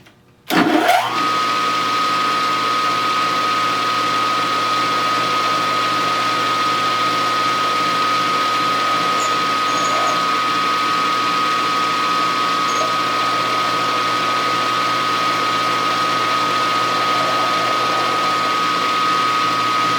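A machine spins up abruptly to drill a 0.177 hole and ream it for a small steam engine build, then runs on with a steady, even motor whine and hum close by for the rest of the stretch.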